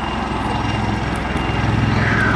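A Royal Navy Wildcat helicopter flies at a seaside airshow, its engine and rotor making a loud, continuous droning roar throughout.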